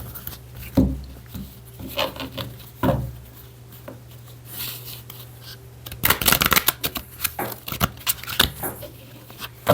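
Close, papery riffling of a Gypsy fortune-telling deck being shuffled by hand, coming in repeated short bursts with a denser flurry near the end, with no talking.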